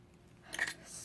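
Scissors snipping thin paper strips for a snow globe tag craft, one quick soft cut close by in an otherwise quiet room.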